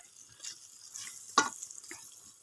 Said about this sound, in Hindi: ये मैं थोड़ा सा इस तरह भूनूंगी